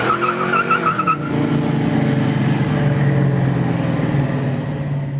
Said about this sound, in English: This is a K-Code 289 cubic inch high performance V8.